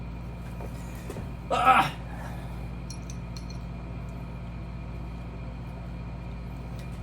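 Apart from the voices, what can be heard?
engine bolts dropped on the ground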